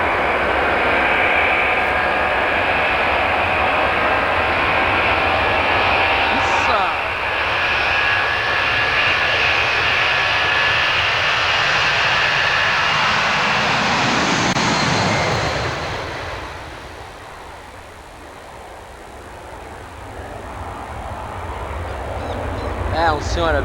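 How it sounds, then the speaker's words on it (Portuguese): McDonnell Douglas DC-10 jet engines roar in a loud, steady airliner drone with a broad whine that swells and then fades and drops near the end, heard up close for a long stretch. "É um puxo de turbina sem um negócio de louco."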